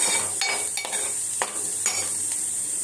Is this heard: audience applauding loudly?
no